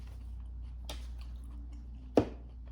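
Someone chews spicy fries and a smash burger at a Los Angeles burger spot: soft, quiet mouth sounds over a low steady hum, with one sharper crunchy bite standing out near the end.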